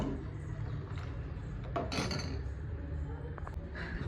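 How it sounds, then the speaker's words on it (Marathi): A spoon scrapes and clinks against a pot while fruit custard is stirred, a few soft metallic taps over a low steady background hum. "आता हे चांगलं हलवून घेणार"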